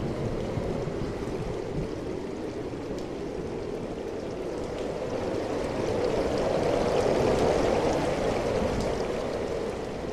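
Rain falls steadily in an animated cartoon scene, a continuous wash of hiss lasting throughout that swells slightly partway through, with no voices.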